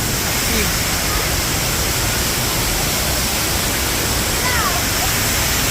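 Bridal Veil Falls waterfall roars loud and continuous, a dense broadband rush filling the whole stretch, with faint voices barely showing under the water.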